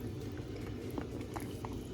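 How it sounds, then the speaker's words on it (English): Sausages for a seafood boil simmer in a pot of water, a quiet, steady bubbling with small pops and gurgles close by. "We still got like a couple more minutes to go in boiling them."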